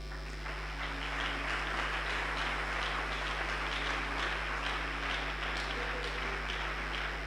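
Congregation applauding and cheering in a church, a steady wash of clapping from a large crowd that holds at an even level throughout over a low constant hum, with voices faintly mixed in.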